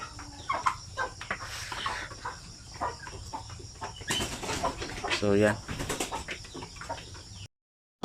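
Native chickens and chicks at a backyard nest, with repeated clucks and chirps scattered through a noisy outdoor scene, plus a short louder burst of calls near the middle; a person talks quietly in the background.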